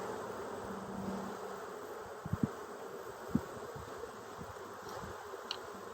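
A steady swarm of honey bees drones continuously close by during a Tennessee hive inspection, a dense even buzz with a few soft knocks and thumps from handling the hive in the background.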